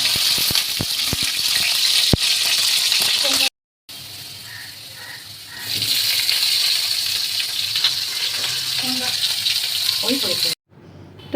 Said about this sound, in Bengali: এখানে শাকটা বসিয়ে দেওয়া হয়েছে